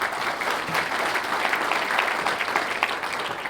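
An audience claps for outstanding educators at an education awards event, a full and sustained wave of applause from a crowd that holds steady with no voices on top.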